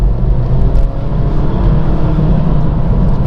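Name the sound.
car engine accelerating in second gear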